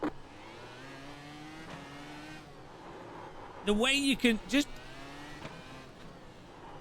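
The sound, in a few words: Dallara iR-01 race car engine in iRacing video game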